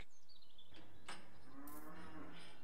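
Cattle moo inside a small cow shed in the farm simulation game Farming Manager, a single drawn-out bovine call rising and falling over about two seconds, fairly quiet with no talking.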